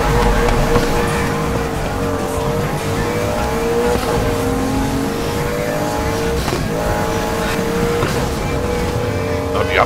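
A Lotus Exige in the racing video game Need for Speed Heat screams through its revs, with a loud engine whine climbing and dropping through gear changes over several seconds and tire noise mixed in.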